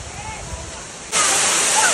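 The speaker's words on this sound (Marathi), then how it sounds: "पण वसुंधरा वॉटरफॉल चालू झालेला आहे." Vasundhara waterfall at Bhandardara rushes in a steady, broad roar of falling water that suddenly grows much louder partway through, with faint voices early on.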